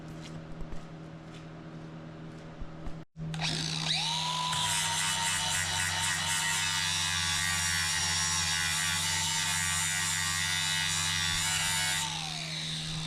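Grinder working on race car parts during enduro prep, a steady high-pitched whine that starts abruptly after a few seconds of low hum and runs loud and continuous for about nine seconds before tapering off.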